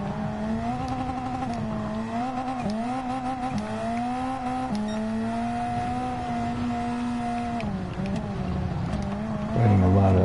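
A full race GT3-type engine in a touring car in Gran Turismo 7 at Lago Maggiore, droning loudly and steadily with rising pitch sweeps and sharp dips at each gear change and corner, continuous and close throughout.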